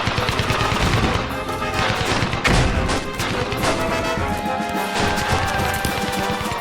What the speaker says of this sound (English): the Allied advance is assaulted by heavy machine gun and artillery fire.